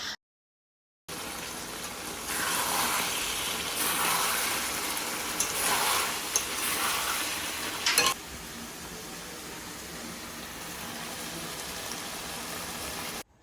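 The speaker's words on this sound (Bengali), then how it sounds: "এখন চিকেনটা আমি রান্না করে নিচ্ছি।" Chicken pieces sizzle and hiss steadily in a pan for a red chicken curry, with a broad frying crackle that swells as the pieces are stirred and then settles to a softer, continuous sizzle.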